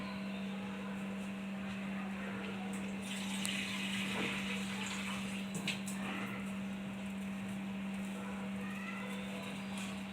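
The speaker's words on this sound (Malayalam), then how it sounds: "അര ഗ്ലാസ് വെള്ളം ഒഴിക്കാം. അര ഗ്ലാസ് വെള്ളം ഒഴിച്ചു," Half a glass of water pours into a pan of mutton gravy, a soft steady splashing rush heard close over a constant low electrical hum, with no talking.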